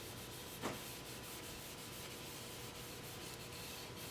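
Continuous steady sanding of a turned koa wood piece at 400 grit on a lathe, an even abrasive hiss running throughout with one brief louder scrape near the start, no talking.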